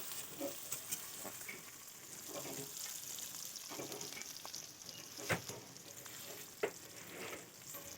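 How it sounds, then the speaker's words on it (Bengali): Chopped onion and green chilli frying in a pan after black cumin, a quiet even sizzle with occasional soft clicks of stirring, no voices. "এবার দেখো পেঁয়াজ কুচুনো কাঁচা লঙ্কা কুচুনো দিয়ে দিলাম, দিয়ে এটা ভালো করে ভেজে নেব।"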